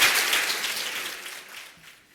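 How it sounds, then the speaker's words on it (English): Applause from a keynote audience at an academic conference, a short burst of clapping that starts strong and tapers off into near silence within about two seconds. "give yourself and each other a round of applause for being here"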